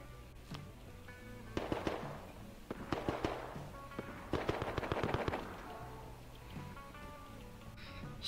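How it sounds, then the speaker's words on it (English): Gunfire in the survival game Rust: scattered bursts of sharp cracks in quick rapid clusters, some single shots and some fast volleys, heard at moderate distance over a steady low background hum. "I guess they were just shooting for fun then"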